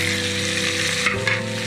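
Tomatoes and mint sautéing in a pan, a strong steady sizzle with brief stirring scrapes near the end, close and continuous with a low background hum.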